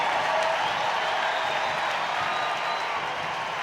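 Steady, sustained roar of a standing stadium crowd cheering at a Portland Thorns versus Seattle Reign women's soccer match, broad and distant-sounding, holding an even level without a break.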